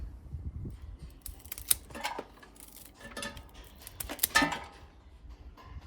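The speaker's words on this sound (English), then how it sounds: "Once your bunch is securely tied, you need to trim the stems." Scissors snipping through the stems of a tied flower bouquet in a garden setting, a few crisp cuts and rustles of stems, close and moderately quiet with no one talking.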